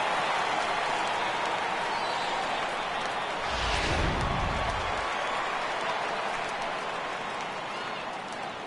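A stadium crowd in MLB The Show 18, at a Giants vs Dodgers spring training game, gives a steady background murmur that swells briefly into a loud cheer and applause before settling back to ambience.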